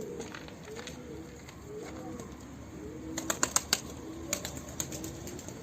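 Young blue-speckled pigeons cooing in a loft, soft repeated low coos close by over faint background noise, with a brief flurry of sharper sounds midway.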